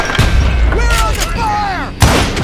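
Gunfire in the Call of Juarez: Gunslinger Western shooter, a few loud sharp shots and booms over a noisy battle bed, with a heavy report near the end and voices faintly mixed in.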